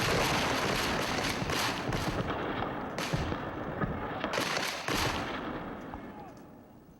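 Civil War reenactors fire their guns in a loud burst of overlapping shots at the start, followed by scattered further bangs and sharp reports, with distant crowd noise trailing off.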